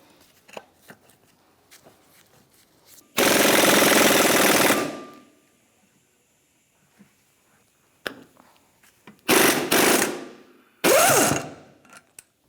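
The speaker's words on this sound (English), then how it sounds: "we're going to put the ball joint press through it, and it's going to pull it through." A ball joint press forces an upper ball joint through the control arm of a 1992-1996 Ford F-150, heard as loud grinding bursts of power-tool ratcheting separated by quiet stretches with small clicks and taps.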